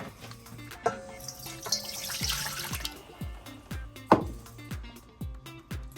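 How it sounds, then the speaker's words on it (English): Water poured from a bottle into a measuring cup while making atole, a steady splashing pour with a short burst of louder sloshing and several quick drip-like knocks, close and alone without talk. "Pour out the rest of that bottle."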